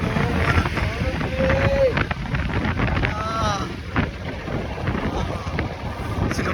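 Gusty wind buffets the microphone in a steady low roar, with a few brief tonal whistles mixed in.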